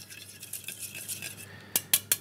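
A small metal whisk stirring yeast into water in a bowl while making homemade pizza dough, light quick scraping swirls followed by three sharp clinks against the bowl's rim.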